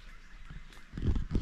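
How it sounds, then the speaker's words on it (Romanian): Many birds, likely geese or ducks, call near an abandoned watchtower in the Danube Delta wetlands, honking in a muffled cluster that grows louder and denser toward the end. "Foarte multe păsări se aud."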